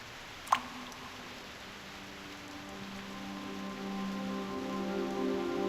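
Rain falling in the video game Reverse: 1999, a soft steady patter that builds slowly, with a single sharp drip-like tick near the start and faint musical tones beneath.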